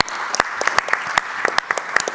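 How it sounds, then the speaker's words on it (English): A conference audience at a panel on scaling AI deployments applauds for Philippe, a short burst of crisp, dense clapping close by with no talk. "round of applause for Philippe"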